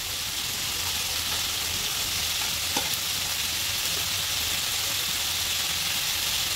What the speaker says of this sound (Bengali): এখন আলুটা দিয়ে দিলাম।